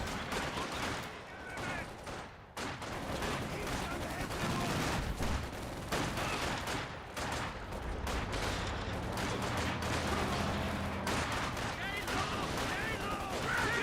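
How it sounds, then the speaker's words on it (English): Flamethrower fire in the World War II strategy game Company of Heroes 2, a continuous roaring rush mixed with scattered gunfire and battle noise, loud and sustained throughout with speech faintly mixed in. "Flamethrower firing away."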